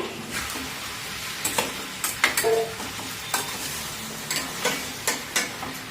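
Chicken curry cooking in two pans on a home stove, with a steady background sizzle and a series of scraping, clinking stirring strokes at irregular intervals, close by, no talking.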